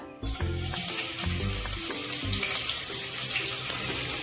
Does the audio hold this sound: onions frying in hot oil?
yes